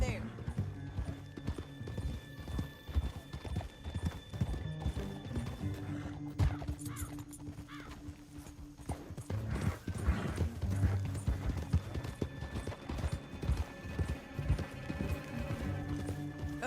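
Horse hooves clip-clop steadily through a Red Dead Redemption 2 canyon ride, a whinny rising at one point, all woven under dense orchestral game music and voices talking throughout.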